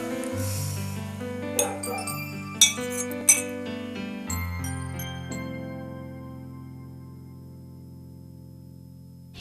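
Glasses clink together in a toast: a few sharp, bright clinks in quick succession ring out and fade into a long, shimmering decay, with no talking.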